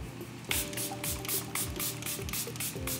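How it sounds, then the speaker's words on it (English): Several quick, close hissing bursts of Charlotte Tilbury Airbrush Flawless setting spray from a pump bottle, fired in a rapid rhythm over a faint background hum. "I always like to set my makeup with a setting spray"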